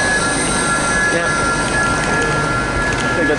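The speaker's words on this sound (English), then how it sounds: "I think that's the metro." A metro train passes near an airport station, a steady broad rumble of rolling wheels with a faint high squeal running throughout, loud and close.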